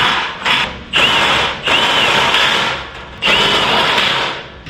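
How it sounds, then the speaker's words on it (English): Drill bit chewing through thin aluminum while fabricating door panel skeletons: three loud, close bursts of high grinding whine, each lasting about a second, separated by brief pauses. "drill bit is so hard on this aluminum. It's so thin, it just chews it up."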